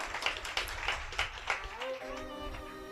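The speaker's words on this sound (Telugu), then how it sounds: "చప్పట్లు కొట్టండి" A congregation at a Telugu Christian sermon breaks into rhythmic group clapping, roughly evenly spaced loud claps for about two seconds, before a voice takes over.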